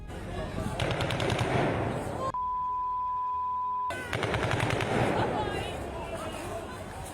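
Rapid bursts of automatic gunfire crackle loudly at a protest in Kherson, broken by a steady electronic tone in the middle before the shooting resumes.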